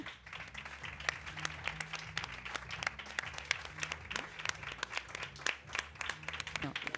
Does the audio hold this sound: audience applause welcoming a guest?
yes